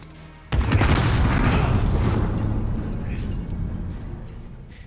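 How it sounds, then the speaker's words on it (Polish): A sudden loud bomb explosion in the video game Call of Duty: Modern Warfare (2019) bursts in at once, followed by a long rumbling roar and debris that slowly fades over several seconds. "Bomba wybuchła."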